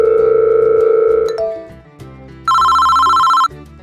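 A telephone rings loudly with a steady electronic tone for over a second, then after a short gap a second bright, higher ringtone burst sounds for about a second, clear and close with no talking.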